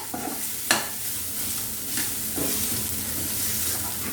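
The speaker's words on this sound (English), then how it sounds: "Give a nice mix to this." A steamed urad dal paste mixed with spices in a hot pan, heard as steady close scraping and stirring over a low sizzle, with one sharp clack of the utensil early on and no talking.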